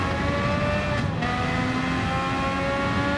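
Race car engine held at full throttle in Gran Turismo 7, a loud, steady high-pitched drone with a brief dip as it shifts, filling the whole clip with no talk.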